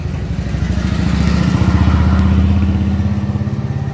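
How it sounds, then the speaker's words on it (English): A motorcycle passes by outside, its mid-pitched engine rumble swelling as it approaches, peaking loud and near, then holding a steady chugging drone. "There's a motorcycle coming."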